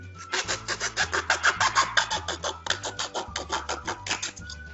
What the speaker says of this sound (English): then I use a sawing motion